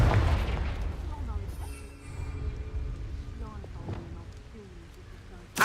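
A Confringo fire blast spell explodes in the Hogwarts Legacy video game, a deep booming blast with rumbling, crackling tail among other game effects, with a voice speaking over it and a sharp burst at the end.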